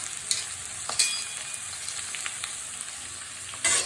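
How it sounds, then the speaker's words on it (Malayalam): Onions sizzle in a hot pan while cooking pepper beef, giving a steady close hiss with occasional sharper crackles and a brief louder burst near the end, with no talk. "എന്നിട്ട് നമുക്ക് സവാള ഇട്ട് കൊടുക്കാം"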